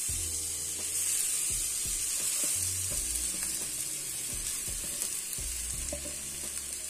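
Grated raw potato frying over high flame in mustard oil with asafoetida, a dense constant sizzle close up, broken by scraping stirs and soft utensil knocks throughout.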